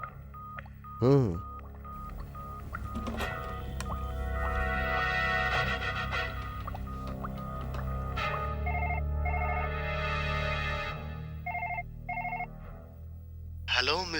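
A telephone being dialed and then ringing, with tone bursts and a long repeating electronic ring pattern that fills the clip, and a short spoken murmur near the start.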